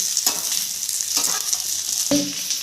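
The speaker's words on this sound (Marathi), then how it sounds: "आता तसंच खोबरं पण थोडंसं तेल टाकून परतून घेणार आहे तिथंच कांदा ठेवायचा आहे साईडला हे पण थोडंसं परतून घेते" Grated coconut and onion fry in a little oil, a close, steady sizzle with a few sharper stirring scrapes and clinks in the pan, no talk.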